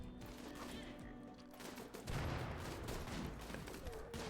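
Rapid video game gunfire from friendly fire in RimWorld, a dense fusillade of overlapping shots that grows louder and heavier midway through and keeps going to the end.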